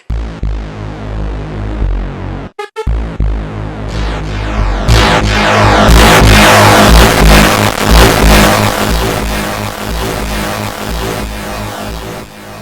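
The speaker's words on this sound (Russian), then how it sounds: "у меня сейчас эффект delay Слушаем, как он звучит." Delay effect from a Roland SP-808EX sampler on a drum-and-bass loop: a brief dropout, then a dense, loud repeating pattern that thickens and builds as echoes stack and feed back, sustained throughout with no voices.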